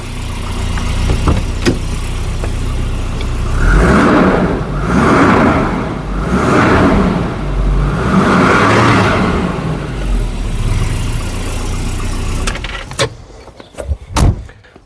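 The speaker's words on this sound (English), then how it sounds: "That's just the sound the car makes." A Volvo 240 engine runs through a welded-on hot rod exhaust tip, a steady mid-pitched drone that swells in several rhythmic surges, then fades, with a few sharp knocks near the end.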